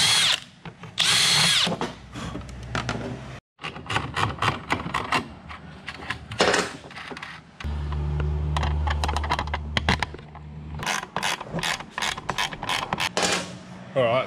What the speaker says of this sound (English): I'm just going to start by drilling this main hole to get this main wire through to the 12 volt.